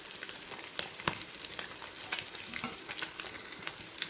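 Anchovies frying in hot oil, giving a steady bright sizzle with small crackles and a few sharper pops, fairly close and with no talking.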